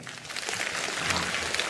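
An audience at a Cantonese stand-up comedy show breaks into a short burst of applause, a dense, even patter of many hands clapping in a hall.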